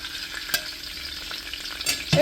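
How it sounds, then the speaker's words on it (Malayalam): Ginger and garlic fry in hot oil for a spicy beef fry, a soft steady sizzle with a few stirring clinks and scrapes, close by and with no one speaking. "ഓയിൽ ചൂടായിട്ടുണ്ട് അപ്പോൾ അതിനകത്തേക്ക് ഞാൻ ഇഞ്ചിയും വെളുത്തുള്ളിയും കൂടെ ഇട്ട് കൊടുക്കുന്നുണ്ട്"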